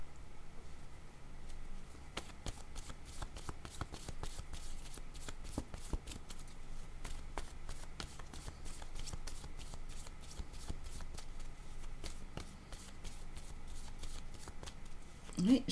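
A tarot card deck is shuffled steadily for a card reading, producing a soft, continuous riffle of close card flicks while someone speaks French over it.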